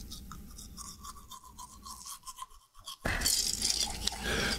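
A toothbrush in the game Mirror Mirror gets picked up and handled with soft scrapes and clicks under a faint tonal hum, then a sudden louder wash of noise takes over for the last second and a half.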